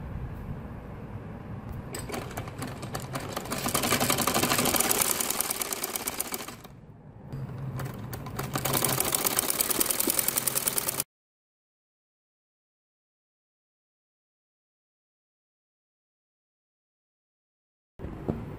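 Sewing machine stitching a belt onto a tulip salwar, loud continuous mechanical whirring in two bursts with a short pause between, then silence until a brief click at the end.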